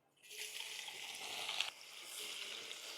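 Chopped onion hitting hot oil in a kadhai with cinnamon, black pepper, cloves, bay leaf and whole coriander, bursting into a loud sizzle that swells, briefly peaks, then settles into steady close frying.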